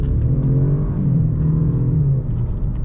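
A 2022 Dodge Charger with a four-cylinder engine accelerates in S mode, its engine drone rising steadily, loud and close from inside the car, with constant road rumble beneath.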